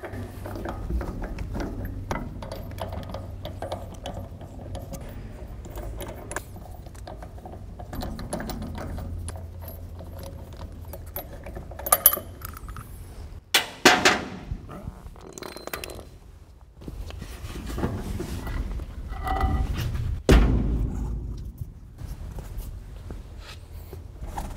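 Work on a trailer's wheel end to remove the tire and wheel: close metallic clanks, ratcheting and mechanical clatter, mostly steady, with a few sharp louder knocks and scrapes near the middle and end.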